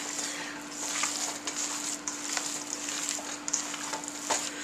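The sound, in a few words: mixing stuffed pepper filling with rice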